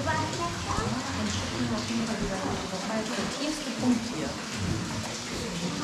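Rain falling steadily outdoors on a summer trip in Sweden, a dense continuous hiss with low rumbling underneath, moderately close and unbroken throughout.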